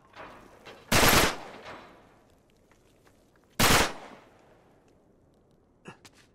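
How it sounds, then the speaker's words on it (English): In the game Uncharted, a gun fires two loud, sharp shots at a lock, spaced a few seconds apart, each trailing off into a short echo, followed by faint clicks and shuffling. "Back up, I'll shoot the lock."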